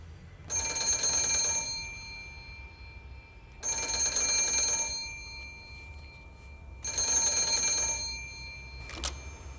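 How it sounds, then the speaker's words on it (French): Telephone bell ringing in three long, loud, close trills separated by pauses of silence, ending with a brief click. "Bring bring, le téléphone sonne"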